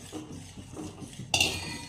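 Soft scraping and clinking of a utensil stirring rice-flour dough for modak in a metal pot on the stove, ending in a brighter, louder scrape near the end.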